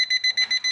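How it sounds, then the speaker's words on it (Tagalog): A continuity tester beeps in rapid, regular short pulses, loud and close, during a 60 kW three-phase grid-tie solar inverter installation, ending in a brief clunk. "Atong beep tester."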